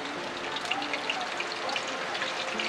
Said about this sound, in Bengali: এখন ভেন্ডি ভাজবে